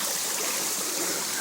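A small stream of water running down a channel toward a garden waterfall, a soft continuous trickling rush, steady and close, with no talk.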